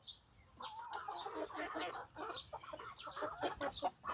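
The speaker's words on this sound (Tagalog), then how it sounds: "Ayan yung mga manok natin." Several chickens cluck and chatter close by in an irregular, busy stream, with sharper squawks mixed in.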